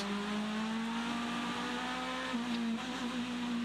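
GTE race cars on a circuit, a steady high engine drone held at full throttle with a slight pitch shift as the cars pass, continuous and fairly close with no pauses.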